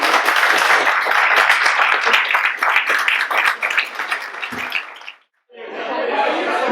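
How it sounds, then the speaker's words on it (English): An audience at a London tech meetup applauds the presenters, a dense, loud wash of clapping mixed with chatter and a little laughter that dies away, then swells briefly again. "round of applause for the chaps"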